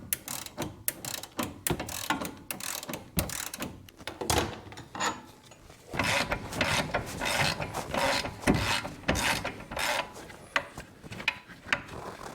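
A hand ratchet clicks rapidly while undoing the lower shock bolt on a 2012 VW Touareg 3.6L VR6, close-up bursts of sharp metallic ticks in uneven runs with brief pauses.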